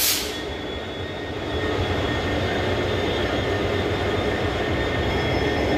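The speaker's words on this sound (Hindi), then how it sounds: "डबल लोकोमोटिव लगे हुए हैं दोस्तों इस ट्रेन में" A Ferozepur–Ludhiana express train hauled by a double WDG-4 diesel locomotive rumbles past close by in hot weather. The roar is loud, steady and continuous, with wheel and rail noise and no talking.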